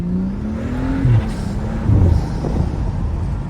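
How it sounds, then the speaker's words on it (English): A BMW with the N55 engine revs hard as its tires spin and lose grip, a loud, steady engine whir with a couple of pitch rises, heard from up close without speech. "I'm gonna get nice tires though, good tires, because I need the grip. Like, look at that. I'm just spinning so much."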